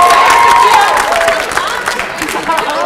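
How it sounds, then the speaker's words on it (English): A high school talent show audience claps and cheers for a volunteer assistant, a loud close burst of applause with yelling voices mixed in. "Everybody give my wonderful assistant a round of applause"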